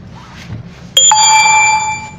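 A Lada Vesta's seatbelt warning chime sounds inside the car: a quiet cabin hum, then loud, clear electronic ding tones that start abruptly and ring on steadily to the end.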